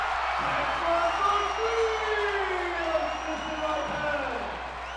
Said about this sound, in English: Usual lively crowd when you get to a sectional game. And a full house here.